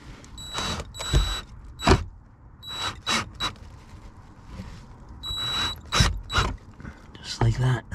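A part is screwed in by hand while a 12-volt socket is fitted in a Tesla Model Y, giving close ratcheting, clicking mechanical turns in irregular bursts over a low cabin hum.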